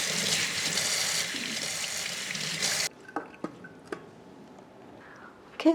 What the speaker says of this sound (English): We will rinse quickly the squid.